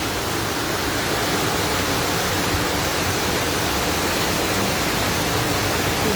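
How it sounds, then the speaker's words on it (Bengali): Heavy midday rain falls as a dense, steady roar of broadband hiss, loud and unbroken for several seconds with no voices. "প্রচুর বৃষ্টি হচ্ছে"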